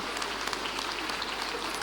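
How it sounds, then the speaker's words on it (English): A conference hall audience at an accountants' plenary gives a standing ovation, a dense, steady patter of many hands clapping, continuous and somewhat distant, with no voices over it. "Make the clap louder now."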